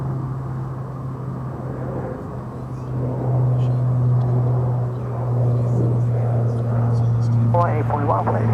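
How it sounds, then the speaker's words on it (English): An American Airlines Boeing 777-300ER taxis across two runways at Dallas–Fort Worth airport, a continuous low jet engine drone that swells midway, with a voice talking over it. "Got an American 777-300AR, wasting no time crossing the 2 runways, heading over to the west side of DFW"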